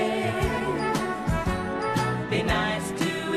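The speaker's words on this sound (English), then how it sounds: "1970s game shows used to sound like this." A 1970s ITV game show theme jingle plays loud and continuous, brassy orchestral chords with a steady thumping beat throughout.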